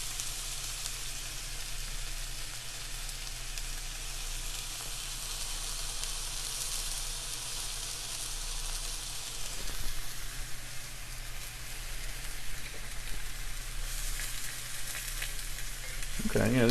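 Tomatoes fry and brown in a cast iron pan, a steady dense sizzle running evenly throughout, close and fairly loud, with a brief clatter near the end.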